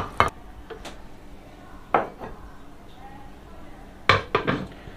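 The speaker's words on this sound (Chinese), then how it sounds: "30分钟以后，我们把洗干净的羊肉下到砂锅里" Washed lamb pieces going into a clay casserole pot, with sharp clattering clinks of pot and utensil in three short clusters, a single knock then a double and a quick triple rattle, close and fairly quiet over a low room hum.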